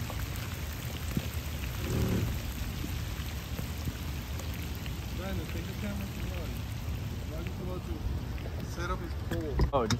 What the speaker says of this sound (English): Oh, it just started raining.